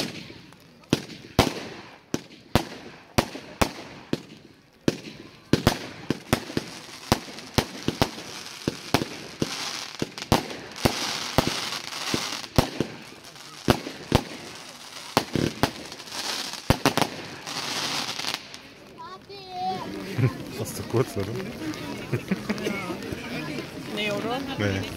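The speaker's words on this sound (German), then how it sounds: "Spectre. 25 Schuss, 25 Sekunden Brenndauer, 18 Euro das Stück. Eine Multi-Effekt-Batterie mit Fächer." Spectre multi-effect fireworks battery with a fan pattern, 25 shots at a musical fireworks display in Stein near Nürnberg: rapid sharp launch bangs and bursts for about nineteen seconds, then a dense crackling tail with sound underneath.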